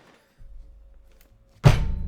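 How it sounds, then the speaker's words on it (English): A Bible dropped onto a surface lands with a single loud, close thud, preceded by faint low handling noise. "I want you to hear that thud as I drop my Bible on the thing"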